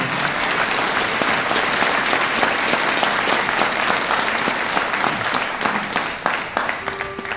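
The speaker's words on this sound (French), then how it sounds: "on l'applaudit" An audience claps loudly and steadily at a Christmas music party, close and continuous, tapering slightly at the end.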